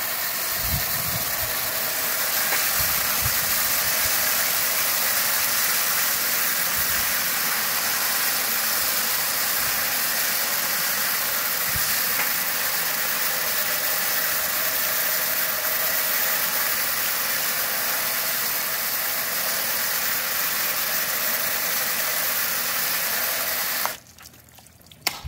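Water sprays onto the front hood and right fender of a Fisker car during a leak test. A loud, constant hiss carries on for about twenty-four seconds, then cuts off abruptly near the end.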